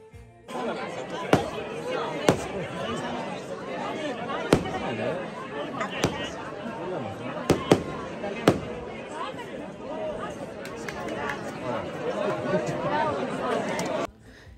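Fireworks at a summer village festival in Greece, with sharp bangs and cracks going off at irregular intervals. A busy crowd chatters beneath them throughout.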